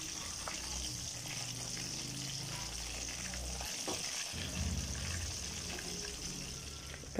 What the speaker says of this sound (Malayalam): പിന്നെ അപ്പുറത്തെ സൈഡ് മറിച്ചിട്ട് ഫ്രൈ ചെയ്തെടുക്കാം